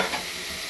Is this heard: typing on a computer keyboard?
no